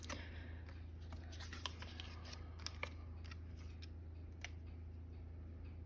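Scissors snip through paper in a series of close, crisp cuts, several sharp clicks spaced irregularly over a low background hum. No talking.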